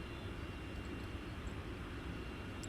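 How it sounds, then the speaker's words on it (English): An EasyJet airliner on its takeoff roll at Luton Airport, a faint, distant, steady broadband engine roar that holds evenly throughout without any talking. "So on the roll is another EasyJet."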